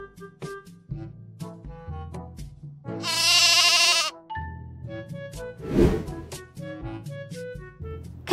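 A sheep bleats once, loud and close, a sustained wavering cry among other scattered animal sounds and a brief noisy burst.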